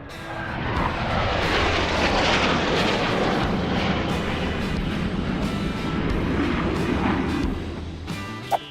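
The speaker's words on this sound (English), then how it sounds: "The ominous sight of the B-2 Spirit arriving at a UK airbase." A B-2 Spirit stealth bomber arriving at a UK airbase roars loudly and steadily for several seconds as its jet engines rumble past, the broad noise fading slightly near the end.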